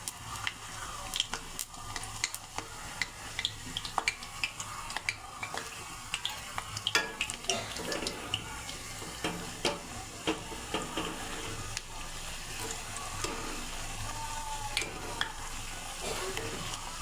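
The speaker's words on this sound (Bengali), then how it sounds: "এইভাবে লাল লাল করে ফুচকাগুলো ভেজে নেব" Fuchka puris frying in hot oil, heard close as a continuous sizzle with frequent sharp crackles and pops, plus occasional stirring and scraping in the pan, with no voices.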